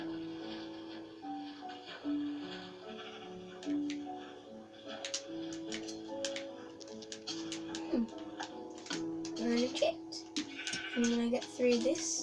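In a survival video game, a sheep bleats several times amid other game sounds, with people talking over it.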